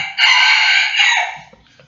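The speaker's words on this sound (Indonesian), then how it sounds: "ada suara ayam ya" A rooster crows once, a loud, close, drawn-out call that rises and then trails off, with no other sound around it.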